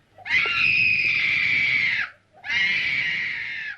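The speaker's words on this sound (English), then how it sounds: "That scream is one of the most extraordinary things in the whole of cinema" A girl in the film The Innocents screams shrilly and at length. One long piercing scream breaks off briefly, then a second one follows, loud and alone.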